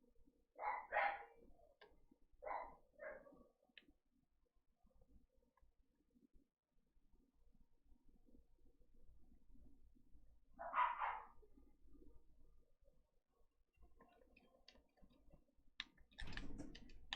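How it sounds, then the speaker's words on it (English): Dogs bark loudly in a backyard, a few sharp bursts near the start, another lone bark around the middle, then scattered clatter and a heavy thump at the end. "Loud dogs being loud."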